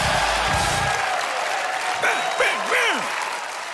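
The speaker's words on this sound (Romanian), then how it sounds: "Cum aplaudă publicul?" Applause from a comedy show audience at a stand-up roast stage in Romania, dense and steady at first, then thinning while a voice speaks over the claps.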